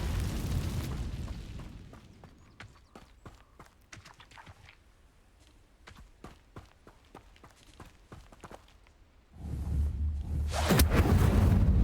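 A fire-spell blast in Hogwarts Legacy lands as a heavy boom at the end, after a run of sharp rhythmic impacts and thuds from combat, with loud rumbling at the start as well.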